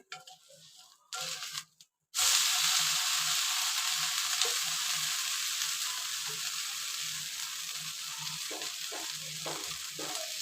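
Pearl millet being sautéed in a pan, a steady close hiss that starts after about two seconds of quieter clatter and runs on with occasional scrapes of stirring.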